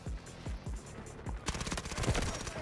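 Gunfire from an AS VAL rifle in the game Delta Force: a few separate shots first, then a dense, rapid burst of automatic fire that sounds loud and close.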